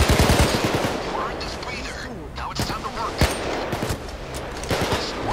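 Rapid bursts of automatic gunfire in the video game PayDay 2 crackle and pop throughout, with sharp single shots standing out and some voices talking faintly underneath.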